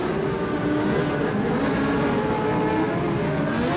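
Modlite race cars roaring around the Brisbane Speedway track in a continuous loud engine drone with overlapping cars, heard from the stands.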